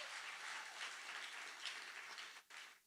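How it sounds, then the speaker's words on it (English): An audience at a live business event applauds, a dense, steady wash of many hands clapping that holds for nearly three seconds before briefly dipping. "let's give a round of applause for High Level being a sponsor of Big Brand Ventures Live"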